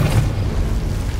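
The Depulso spell is cast in Hogwarts Legacy, producing a loud, deep, booming magical blast that lasts about a second.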